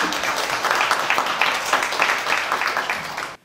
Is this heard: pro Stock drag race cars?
no